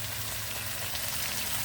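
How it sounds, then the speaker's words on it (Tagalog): Ingredients for balbacua sautéing in a hot pan, giving a dense, steady, close sizzle and crackle of frying with no speech. "Okay mga ka-DJ, ayan, ginigisa na natin"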